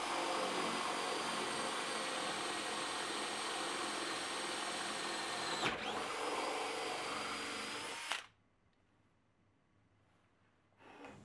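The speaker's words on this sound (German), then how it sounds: "Die Bohrer werden in einen Akku-Bohrschrauber eingespannt und so angetrieben." A cordless drill whirs steadily for about eight seconds, dips briefly in pitch midway, then stops, leaving near silence before a short final burst.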